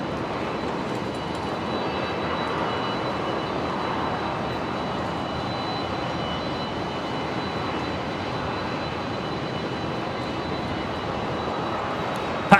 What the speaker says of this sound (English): they're just so noisy, them Rolls-Royce